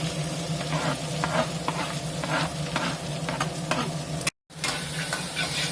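Chopped onion and cloves fry and get stirred in a pan for a mushroom do pyaaza, a steady close sizzle with repeated scraping stirs and a brief silent break near the end, no voices.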